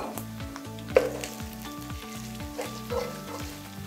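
Golden brown onions fry with a steady sizzle as tomato paste is added for a fish curry, with a few scraping stirs and a sharp sputter near the start, close and moderately loud.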